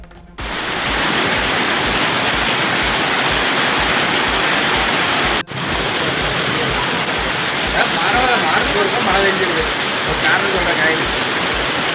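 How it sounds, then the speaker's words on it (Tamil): Heavy rain pours steadily across much of Tamil Nadu during a summer thunderstorm, making a loud, dense, constant hiss that is close and unbroken, apart from one sharp cut midway. "தமிழகத்தின் பல்வேறு மாவட்டங்களில் இடி மின்னலுடன் பெய்த கனமழை."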